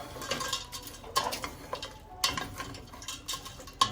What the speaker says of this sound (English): Put that in there. Mix all that up.